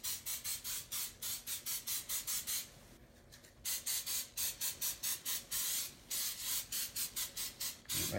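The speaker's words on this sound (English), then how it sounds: "gonna take some simple canola oil spray" Canola oil spray greases a baking pan in a run of quick, rhythmic hissing bursts, up close and fairly quiet, with a brief pause partway through.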